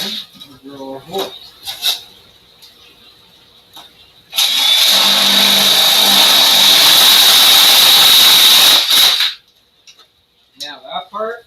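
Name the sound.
drilling a hole with a spade bit for an aquarium lid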